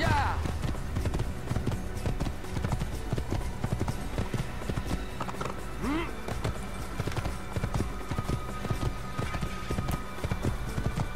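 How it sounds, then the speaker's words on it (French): Horse hooves gallop in a rapid, continuous drumming rhythm in Assassin's Creed, loud and close throughout, with a brief whinny and game sounds mixed in. "Puis je suis au galop."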